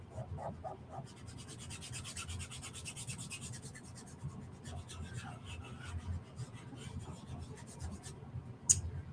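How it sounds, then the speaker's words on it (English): Chalk rubbed across a Chalk Couture transfer, a steady soft scratchy rasp with repeated short strokes, close and quiet, and a small tap near the end. "I'm just going to rub all of the areas that I haven't chalked yet."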